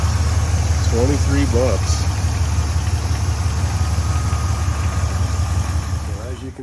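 A car engine idles steadily after a renewed battery, with a low constant drone running throughout and a voice talking over it near the start and end.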